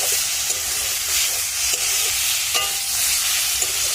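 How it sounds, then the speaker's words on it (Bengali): Steady loud sizzling of spinach and chickpea greens frying in a pan, with occasional scraping as they are stirred. "শাকটা ভাজা হয়ে গেছে, তার আমি এবার নামিয়ে নেবো।"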